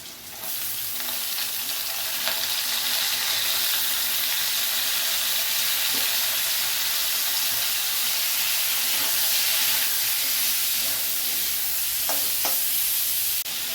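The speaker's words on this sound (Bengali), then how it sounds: "আলুটা একটু লাল করে ভেজে নিয়ে পেঁয়াজ কুচিটা দিয়ে দিচ্ছি।" Potatoes frying in a pan, lightly browned before chopped onion goes in, give a steady, dense sizzle that holds loud and close throughout, with a few soft stirring scrapes and no talking.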